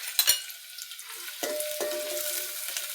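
Chopped onion hits hot oil in a pan for Kolhapuri mutton curry, giving a steady hissing sizzle with a couple of sharp utensil knocks near the start, fairly close and unaccompanied by talk.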